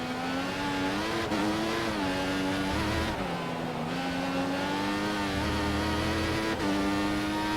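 A Formula One car engine in F1 2014 at the Belgian Grand Prix, a steady high-pitched whine that rises and dips with gear changes and throttle, loud and continuous with no talking.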